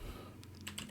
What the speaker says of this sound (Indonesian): Kalian tekan Ctrl P